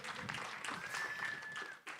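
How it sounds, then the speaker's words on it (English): Audience applause for a panel of Caribbean women at a conference, a steady wash of clapping over two seconds with a faint tone running through it before it cuts off. "Can we please give a round of applause?"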